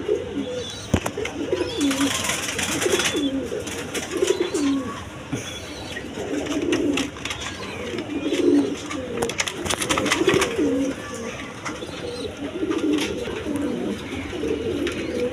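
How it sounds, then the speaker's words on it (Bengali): A pair of white gola pigeons coo in repeated soft, throaty phrases, the rhythmic cooing pulsing every second or two at close range, with faint chirps and background noise around them. "দর্শক এখানে এক পেয়ার গোল্লা কবুতর আছে দেখেন, সাদা কালারের মধ্যে।"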